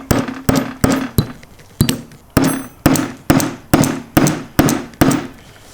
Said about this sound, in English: You can send it most of the way home with hammer and then finish it with the tool.